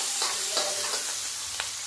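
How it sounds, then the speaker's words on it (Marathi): Chopped onion, capsicum, green chilli and peas roasting in a pan for pav bhaji, a steady close sizzle with a few soft scrapes of stirring. "पूर्ण छान असं भाजून घ्यायचे आपल्याला"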